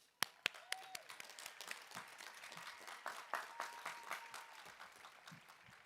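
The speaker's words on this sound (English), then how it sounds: "give yourselves a huge round of applause" Quiet, distant applause from graduates and guests at a community college commencement, starting with a few sharp claps and settling into a soft, steady patter.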